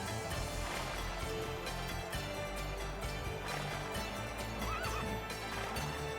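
A horse in the Rumble Roses video game neighs and whinnies over a busy music and crowd bed, with clip-clopping hoof sounds; the calls stand out clearly near the middle of the clip.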